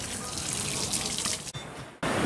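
A restaurant worker pours water over a hot stray street dog outdoors at a Turkish beach resort, producing a steady close splashing gush that briefly dips, with a voice faintly present under it.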